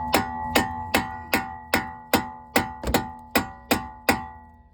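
A mallet strikes the top strut bolt on a Subaru WRX rotor assembly resting on a jack stand: about a dozen sharp, ringing metallic blows at a steady, brisk pace, close and alone.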